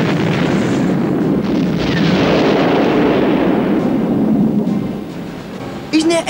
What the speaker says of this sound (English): God, they were really big explosions.